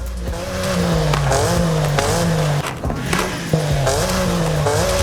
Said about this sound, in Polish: Świetnie brzmi ten samochód.